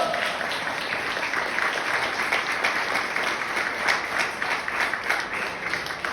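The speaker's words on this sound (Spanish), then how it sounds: "Dale ese fuerte aplauso al Señor." A church congregation claps in a strong, continuous round of applause during a Sunday service, dense and steady throughout with no voices standing out.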